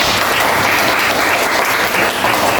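A classroom group gives loud, continuous applause for a presenting group, the clapping dense and steady throughout with no break.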